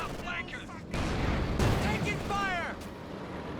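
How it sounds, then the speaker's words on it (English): A Panzer IV tank gun hit lands in Company of Heroes 2: a loud, broad impact about a second in, with rumbling combat noise and chirpy whistling effects around it, under a continuous wash of battle sounds. "Oh, big hit from the Panzer IV."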